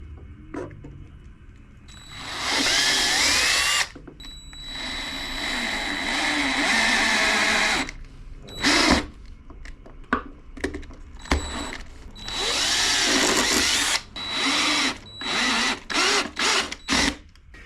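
A power drill drives screws into a wooden lathe faceplate in several loud whirring bursts of varying length, separated by pauses and quick short pulses near the end, close up with no talking.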